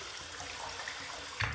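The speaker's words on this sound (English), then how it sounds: "I'm gonna take a little water out of the sink and run a little more here" A sink tap runs water for a wet shave, a soft steady hiss of flow that ends in a brief louder splash or gurgle near the end.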